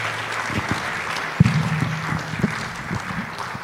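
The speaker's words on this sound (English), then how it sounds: "Please, a round of applause." Audience at a public lecture series on mental health clapping after a talk, a steady moderate round of applause from a room of listeners with a few sharper near claps standing out.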